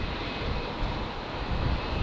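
A QantasLink airliner departs runway 19 left at windy Brisbane Airport, a distant, steady broadband engine roar over two seconds with slight gusty fluctuations and no talking.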